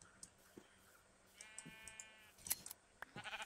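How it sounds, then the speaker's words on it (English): A sheep in the video game Minecraft gives a single wavering bleat, moderately close, amid faint scattered game clicks and footsteps, with no talking. "I got a couple of sheep."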